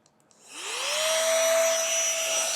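A small ALDI Adventuridge battery mini pump switches on after a few soft clicks and spins up into a steady, loud, high-pitched whirring drone as it inflates.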